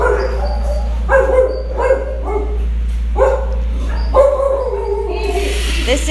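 A dog that has apparently been in a fight barks repeatedly in short, loud bursts spaced about a second apart, close by, over a steady low hum, with no talking.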